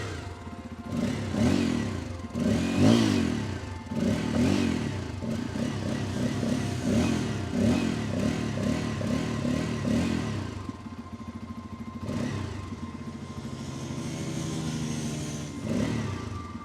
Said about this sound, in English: first let's listen to the exhaust sound